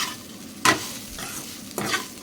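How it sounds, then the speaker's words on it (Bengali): Bitter gourd, potato and long beans frying in a pan, with steady sizzling broken by two loud scraping stirs a second apart, close and clear with no voices. "আর এখানে ভাজা বসিয়েছি আজকে উচ্ছে আলু বরবটি।"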